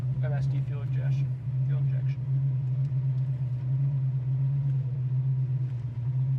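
Fuel-injected 1969 Chevy Camaro with Edelbrock fuel injection idling around 800 rpm, a steady low rumbling hum close by, with a person talking over it early on.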